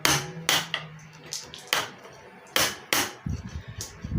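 About eight sharp, separate taps ring out up close as a piece is knocked off an angled bench vise being made, with short pauses between strikes and a quicker cluster of light knocks at the end.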